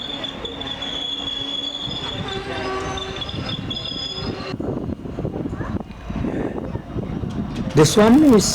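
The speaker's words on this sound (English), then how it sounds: "the empty rake of Kachigoda or KSR Bengaluru Kachigoda Express" Empty rake of the KSR Bengaluru Kachigoda Express passing at Bangalore Cantonment, a loud rumble with wheel squeal and a horn blast at the end, while someone talks over it.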